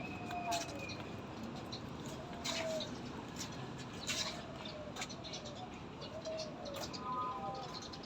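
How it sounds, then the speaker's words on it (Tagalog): Soft pigeon coos repeat faintly over steady outdoor noise at Manila Zoo, with quiet voices talking in the background. "Mga kalapati, no."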